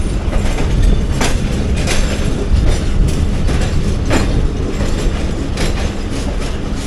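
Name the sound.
train shunting at station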